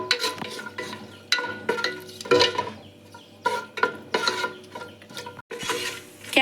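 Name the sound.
cashews roasting in ghee and oil in a pan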